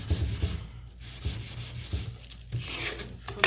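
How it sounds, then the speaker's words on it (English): Sandpaper rubbed back and forth along the grain of a small wooden bunny, giving steady scratchy strokes in an uneven rhythm, close and unaccompanied. "I'm just gonna come in here and sand my bunny"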